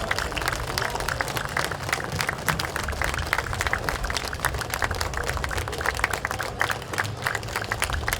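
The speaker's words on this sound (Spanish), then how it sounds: "Por favor, demos un minuto de aplausos para todas esas personas" Sustained applause fills a legislative chamber, a dense, steady wash of many hands clapping at even loudness throughout, with no pauses or speech over it.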